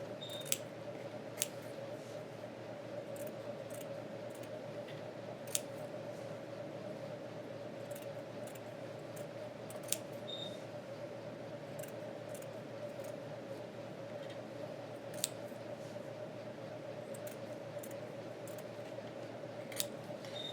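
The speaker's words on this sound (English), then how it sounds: "So I would take my scissors and do that all the way across." Steady snipping of scissors, sharp isolated clicks spaced every second or two over a constant background hum, fairly faint and unaccompanied by talk.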